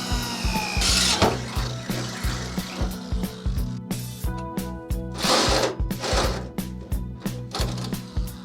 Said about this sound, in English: So now I have to drill a hole through the side.